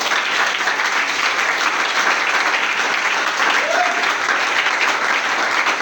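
Church congregation applauding steadily and loudly for the whole stretch, a dense, even wash of clapping with no pauses.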